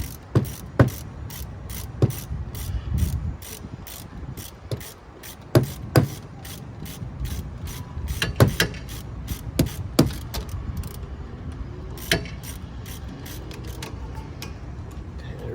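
Rear brake caliper bolt on a 2015 Mazda 3 being tightened with a ratchet, repeated sharp clicks and metallic ticks in irregular bursts over a low workshop background, close up and moderate in level.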